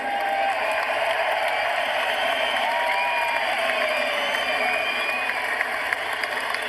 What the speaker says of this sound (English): can we please have a round of applause for these two world-class warriors?